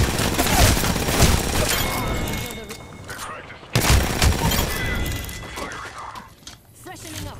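Rapid bursts of gunfire in Apex Legends, dense volleys of shots with crashing impacts in two long stretches separated by a brief gap, with a player talking over them.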